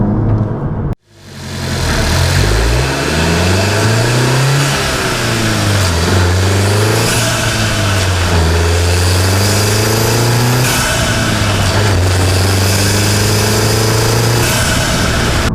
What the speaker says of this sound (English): you can definitely hear the boost whooshing just the other side of the bulkhead